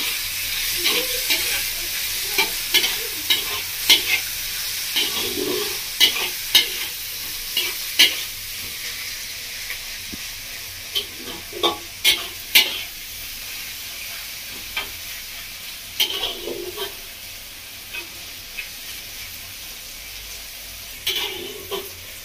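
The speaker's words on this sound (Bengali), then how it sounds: "ভালো করে মশলাটা ভেজে নেবো আপনার সাথে" Turmeric and Kashmiri chili powder frying in a pan for a pointed gourd and egg bhujia, with a steady sizzle under repeated scraping stirs that come in irregular bursts, close and alone without talk.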